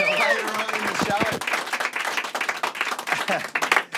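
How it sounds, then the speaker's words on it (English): A studio audience at a television show claps for a performer, a short burst of applause that follows a moment of speech and then trails off unevenly. "Another clap for P76."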